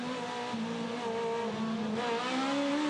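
An Aussie Racing Car powering out of a turn at Hidden Valley, its engine note rising in a steady strained drone with gear-like pitch steps, heard continuously from on board with no voices.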